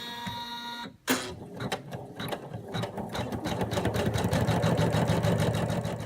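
An embroidery machine stitches a bandana outline in fabric, its needle hammering in a fast, steady mechanical rhythm after a brief pause and restart, close and loud with no talk.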